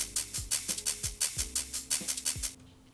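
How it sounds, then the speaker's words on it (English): A simple, bright hi-hat loop ticks over in an uplifting drum and bass pattern built in Ableton, with crisp hats riding above punchy, pitch-dropping kicks in a fast, even rhythm before stopping abruptly. "And I used really simple hi-hat loop."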